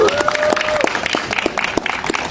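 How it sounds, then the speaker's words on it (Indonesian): An audience at a comedy horror show claps for Mbak Nunung, giving brisk, crackling applause with sharp individual claps. A faint tonal whistle sounds at the very start. "tepuk tangan untuk Mbak Nunung"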